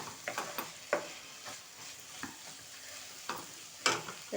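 Amaranth leaves frying in a pan, a soft sizzle under irregular sharp stirring scrapes and spatula knocks, some louder clacks near the end.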